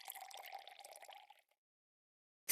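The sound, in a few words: water filling a glass jar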